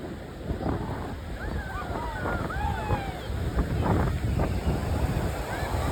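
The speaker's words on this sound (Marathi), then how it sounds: "जाम जोरात लाटा येते" Strong sea waves break and wash steadily at Alibag beach. The surf is a constant rushing roar heard from a distance, mixed with gusty wind on the microphone and faint voices.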